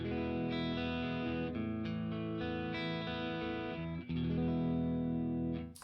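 A distorted electric guitar through a Mod Duo amp emulator playing sustained chords and riffs, thick and saturated, continuous with a few chord changes.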